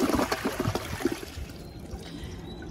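Water draining out of a 1987 Universal Rundle Atlas toilet bowl, a short rushing gurgle that tapers off into a quieter trickle within a few seconds, heard close and alone.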